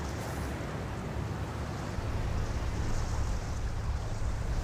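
Sea waves at the shore give a continuous, full wash of rushing surf, steady and fairly loud throughout, with no voices.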